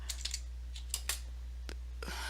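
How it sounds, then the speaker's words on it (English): Typing on a computer keyboard, a handful of scattered, sharp key clicks at close range over a constant low electrical hum, with no speech. "forgive me for typing."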